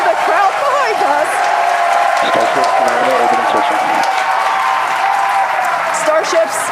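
A crowd cheering and clapping at a Starship rocket launch, a steady roar of applause and whoops heard from nearby, with a voice talking over it.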